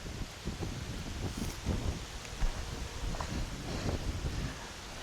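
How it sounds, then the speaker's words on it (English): Wind gusts across an open disc golf course and buffets the microphone with a low, uneven rumble and rustle. A few faint footstep-like thumps sound beneath it, and no one talks. "The wind has shown up, not a fan."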